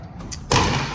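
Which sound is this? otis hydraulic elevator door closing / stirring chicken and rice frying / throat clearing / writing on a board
otis hydraulic elevator door closing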